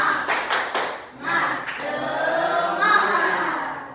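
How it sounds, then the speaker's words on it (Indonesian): Children perform a rhythmic classroom spirit clap, with a quick series of sharp, close hand claps, a brief pause, and further clapping and voices chanting along. "tepuk semangat"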